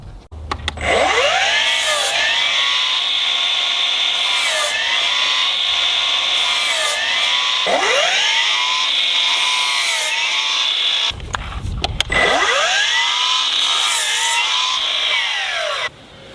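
A Milwaukee M18 Fuel 12-inch dual-bevel miter saw cuts through 2x4 lumber, its battery motor whining up loudly and bogging into wood in repeated cuts, each spin-up followed by a sustained screaming cut, close and alone.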